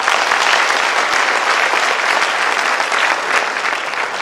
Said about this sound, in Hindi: आपके लिए एक बार जोरदार तालियां।